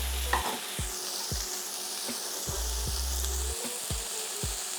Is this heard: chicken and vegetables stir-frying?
yes